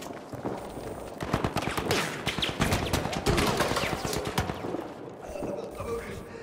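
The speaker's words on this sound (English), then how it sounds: "they're still shooting at us" Rapid gunfire and bursts of automatic shooting in a Battlefield 5 multiplayer battle, dense overlapping shots that stay loud and continuous for several seconds before easing toward the end.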